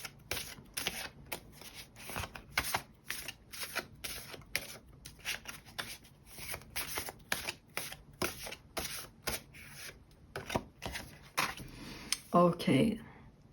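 Tarot cards are shuffled by hand in quick, steady riffling bursts that repeat for many seconds, close and crisp, ending in a brief clatter.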